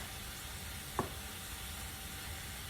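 Shrimp sizzle in a pan over high heat for a beef and shrimp stir fry, a quiet steady hiss with one brief sharp tick near the middle and no talking.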